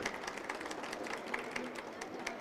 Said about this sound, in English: Let us please clap once again for all of them.